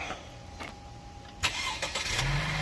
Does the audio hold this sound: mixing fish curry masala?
no